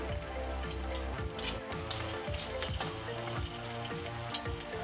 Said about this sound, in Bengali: আমি পকোড়াগুলো আস্তে আস্তে ছেড়ে দেবো।